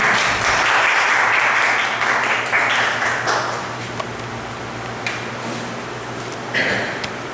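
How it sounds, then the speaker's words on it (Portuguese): A church congregation applauds together, a dense, steady wash of clapping that is loudest at first and gradually thins and fades over several seconds, with a few scattered claps near the end. "Uma salva de palmas para Jesus."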